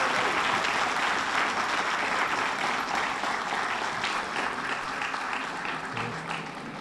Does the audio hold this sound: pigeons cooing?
no